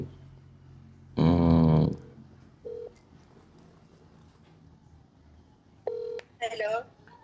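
Telephone keypad dialing on an ordinary phone, a loud cluster of dual tones followed by a few short separate beeps spaced out over several seconds, against quiet room background.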